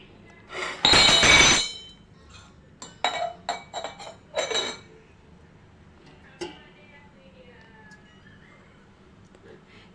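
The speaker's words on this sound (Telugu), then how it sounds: "ఇప్పుడు స్టవ్ పైన ఒక గిన్నె పెట్టుకొని" A cooking vessel is set down on a stove while bottle gourd dal is being made, starting with a loud metallic clatter, then a run of lighter clinks and knocks. A voice is heard in between.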